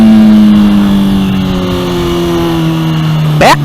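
Honda CBR 600RR motorcycle engine running steadily with a falling tone, ending in a sharp rising rev burst near the end; loud and close.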